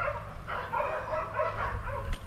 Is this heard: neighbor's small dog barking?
yes